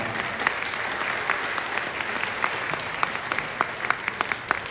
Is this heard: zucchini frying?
no